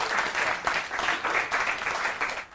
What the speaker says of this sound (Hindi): जोरदार तालियों के साथ स्वागत डॉक्टर अरुण पांडे जी का।